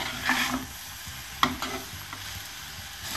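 A banana stem stir fry with coconut is stirred in a clay pan, with scraping strokes of the spatula and a sharp knock over a soft sizzle, close and without speech.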